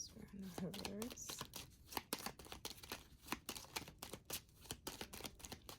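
A deck of tarot-style reading cards is shuffled in quick, soft papery flutters and taps, quiet and close, with a faint voice heard briefly near the start.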